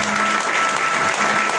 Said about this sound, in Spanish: a la palabra del Señor le damos un fuerte aplauso